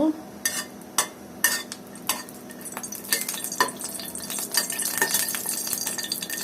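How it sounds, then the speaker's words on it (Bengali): Two dried red chillies fry in oil in a kadai, a soft sizzle broken by repeated sharp clinks of a spoon stirring against the pan, close and without talk. "শুকনো মরিচটা আমি ভেজে নেব।"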